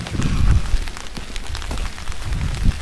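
Heavy rain pours down during a downpour on a road trip, a dense, close patter on a surface with irregular thumping gusts and no voices.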